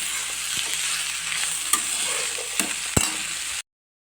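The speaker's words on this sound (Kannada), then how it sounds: "ಒಂದು ಕಡೆ ಈಗ ಉಳ್ಳಿಗಡ್ಡಿ ಫ್ರೈ ಮಾಡೋಕೆ ಇಟ್ಟಿನಿ" Onions frying under a lid in a pan for a North Karnataka dish, a close, even sizzling hiss with a few light taps and clicks, ending abruptly in silence; no one speaks.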